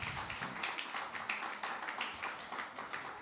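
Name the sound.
congregation clapping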